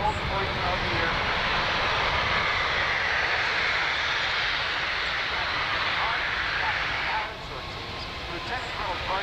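Boeing C-17 Globemaster III at an air show, its jet engines giving a loud, steady broadband roar that holds for several seconds and eases slightly near the end, with an announcer speaking over it.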